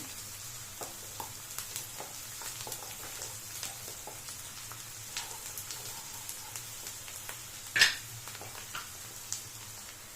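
Onions and green chillies fry in a pan for a spicy chilli chicken gravy, giving a steady close sizzle scattered with small crackling pops and one sharper louder snap near the end, with no voices.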